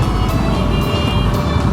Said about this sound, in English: There's some kind of a traffic jam.